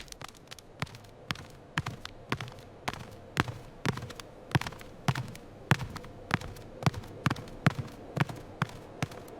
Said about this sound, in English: the physics of the ball bouncing really impressed me